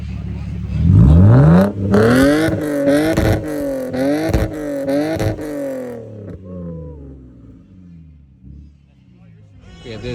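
A Lexus IS 300 at a car meet revs hard, its engine pitch rising and falling through repeated loud, close accelerations, then fading into the distance over crowd noise and voices.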